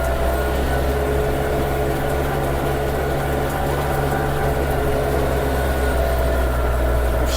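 A Scout 404S tractor ploughing an autumn field with a Unia 2/30 plough, its engine a steady low drone with a constant hum, continuous and close with no talk over it.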